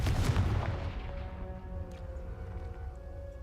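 A Confringo blasting spell goes off in a Harry Potter video game: a loud booming burst up front that rumbles and rings down into a fading, tonal tail, with no voices over it.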